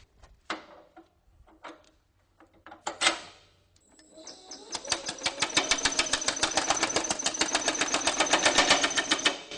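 A Baileigh MH-19 power hammer fitted with a planishing die, working sheet metal. A few scattered clanks come first, then a loud, fast, steady train of metallic hammer blows that runs to the end.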